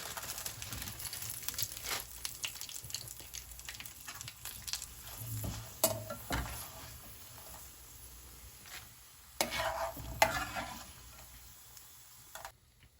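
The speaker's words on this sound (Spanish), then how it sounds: "Decidí freír los chiles de árbol en porciones pequeñas para evitar a que se quemaran." Chiles de árbol frying in oil a small portion at a time, a close, continuous crackling sizzle with sharp pops and stirring bursts scattered throughout, no voices.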